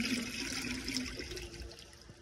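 A 2002 Sanitarios Maracay toilet flushes a washcloth, close rushing and gurgling water that slowly tapers off.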